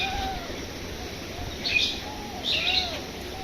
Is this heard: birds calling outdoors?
yes